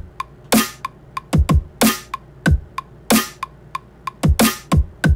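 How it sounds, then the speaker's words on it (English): Halftime hyperpop drum pattern programmed on a drum rack, with a chunky kick and a bright snare hitting at a slow, spaced groove and crisp hi-hat ticks between them, loud and dry with no voice. "On a drum rack with a chunky kick and hyperpop snare, write a halftime pattern that looks like this and sounds like this."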